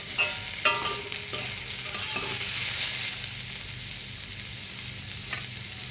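Cooked watermelon rind being stirred in a hot pan, a soft continuous sizzle with a handful of spoon scrapes and taps against the pan early on, then quieter frying.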